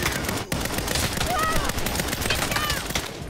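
Rapid automatic gunfire rattles in the video game Saints Row, firing in dense, continuous bursts mixed with other busy game sounds.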